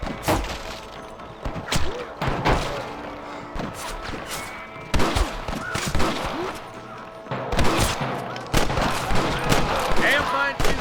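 Gunfire in the video game Red Dead Redemption: loud, repeated shots and rapid volleys with heavy thuds, coming in dense bursts throughout with brief lulls between them.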